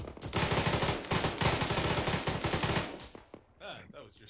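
Unsuppressed rifle fire in Arma 3 at an embassy: rapid, loud bursts of close gunshots rattle for about three seconds, then stop, leaving faint echoes and a quieter tail.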